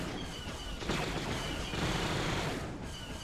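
Dense, sustained gunfire in a Star Wars: Republic At War battle, a continuous crackling fusillade of blaster and weapon fire with rolling booms swelling and receding over a few seconds, with no talk.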